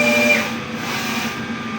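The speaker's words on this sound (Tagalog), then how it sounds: "After head clean po, nozzle test." A DTF printer running a nozzle test after a head clean: a steady mechanical whir with faint tonal whines at the start, close and continuous for under two seconds.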